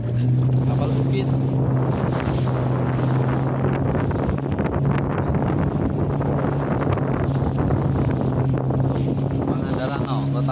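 A boat passes on the open sea off Pangandaran's white-sand beach, its engine a steady low drone and hum that holds throughout, with wind buffeting the microphone over the top.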